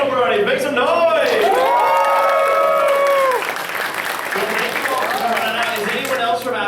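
A convention audience at a riffing panel claps, cheers and whoops loudly and continuously, with shrill individual shouts rising above dense applause before the noise settles slightly but keeps going.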